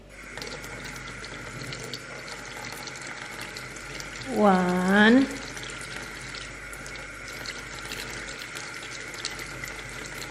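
Water runs from a kitchen tap into a container of calamansi powder, a brief gushing pour of about a second that rises in pitch as it fills, over a faint background hum, with a short spoken word earlier.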